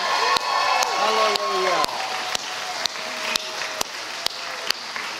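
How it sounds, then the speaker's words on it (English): A congregation at a Calvary Bible Institute graduation ceremony claps together in a steady, sharp rhythm of about two beats a second, close and clear, while voices call and sing over the beat. "Let's give the Lord a clap offering."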